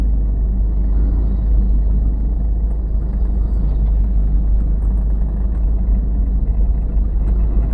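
A car idling steadily through a driving lesson as it rolls back slightly with the clutch pressed, a low, constant engine rumble close by and no voices.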